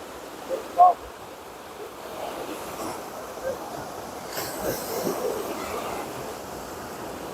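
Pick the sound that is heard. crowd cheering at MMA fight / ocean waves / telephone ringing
ocean waves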